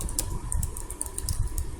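Code being typed on a computer keyboard, a quick run of close, crisp key taps in an uneven rhythm, alone without any voice.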